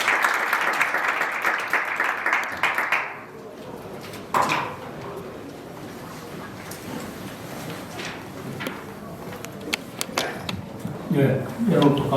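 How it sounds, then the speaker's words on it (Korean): An audience at a forum on German coalition governance applauds for about three seconds, a dense burst of clapping that cuts off abruptly and leaves quieter room sounds. "총리님께 큰 박수 부탁드립니다."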